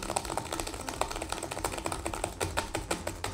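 Computer keyboard being mashed rapidly: dense, irregular clicking keystrokes in quick bursts, close and fairly loud, with no talk.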